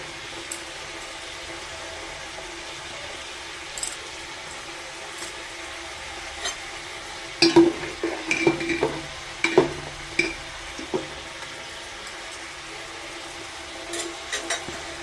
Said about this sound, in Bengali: এগুলো সব সবজিগুলো ভাজা হয়ে গেছে